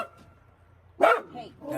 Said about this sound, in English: Our dogs got sidetracked by a deer.